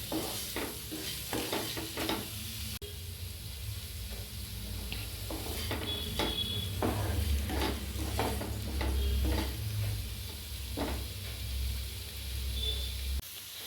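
Marinated prawns fry in a pan, with repeated scraping stirs over a steady close sizzle and hiss, the spatula strokes coming in quick irregular bursts.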